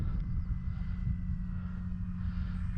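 An FMS PA-18 Super Cub RC airplane flies outdoors with no gyro, its steady low engine drone continuous and fairly near against light wind noise, with no talking.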